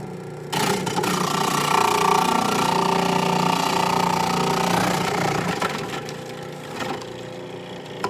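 A food processor grates broccoli pieces for keto latkes, a loud, steady motor whir with gritty chopping texture that runs continuously for several seconds before easing slightly toward the end, with no talking.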